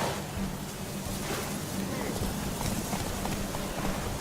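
Rapid clip-clop of horse hooves in The Witcher 3: Wild Hunt at a steady galloping rhythm, fairly faint under a wash of noisy background.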